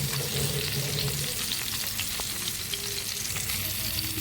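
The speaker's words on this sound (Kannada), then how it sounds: "ಈ ರೀತಿಯಾಗಿ ಅದಕ್ಕೆ ನಾನು ಅಕ್ಕಿ ಹಿಟ್ಟನ್ನು ಹಾಕಿ ಇದನ್ನು ನಾನು ಫ್ರೈ ಮಾಡ್ತಾಯಿದ್ದೇನೆ" Mackerel fish coated in rice flour frying in hot oil over a medium flame, a steady close crackling sizzle that runs unbroken and fairly loud throughout, with no voices.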